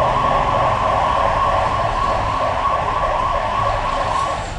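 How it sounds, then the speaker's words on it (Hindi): A police siren wails in a steady, warbling up-and-down pattern, fairly loud and unbroken, over a low rumble of traffic during violent unrest in Jugsalai, Jamshedpur, India. "पूरा इलाका पुलिस के सायरन से गूंज उठा है।"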